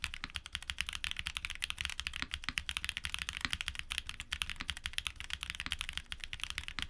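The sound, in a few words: typing on TTC Iron keyboard switches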